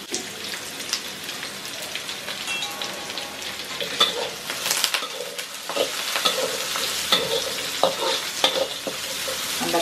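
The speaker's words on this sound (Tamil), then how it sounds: "வெங்காயம் நல்லா வதங்கணும்." Onions sautéing with a little salt for a thick mutton gravy make a dense, crackling sizzle throughout, with frequent stirring scrapes and clicks of the spoon against the pan. No one speaks.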